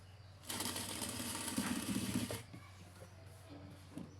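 A sewing machine topstitching a pair of girls' shorts whirs in a single burst of about two seconds, close, then stops, leaving a quiet room.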